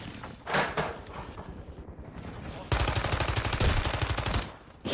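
Rapid automatic gunfire in a first-person shooter video game, bursting in dense, loud, fast-repeating volleys with a pause between, while a player's voice talks faintly underneath.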